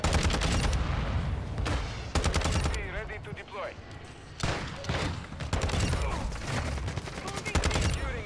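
Hemlock rifle fire in a shooter video game: loud, rapid bursts of gunfire in several rattling strings separated by brief gaps, close and dense, with faint game sounds between bursts.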